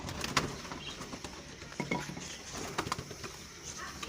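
Pet pigeons at feeding time, with low soft coos and light pecking taps against a faint background hiss, quiet and fairly close.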